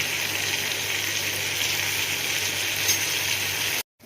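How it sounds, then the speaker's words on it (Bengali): Pointed gourd pieces coated in salt and turmeric fry in a pan with a steady, close hiss and sizzle that runs evenly and then cuts off abruptly just before the end. "আমি একটু নুন হলুদ মাখিয়ে এগুলো ফ্রাই করে নিচ্ছি।"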